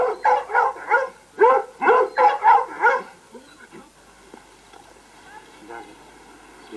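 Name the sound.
Rhodesian Ridgeback puppies barking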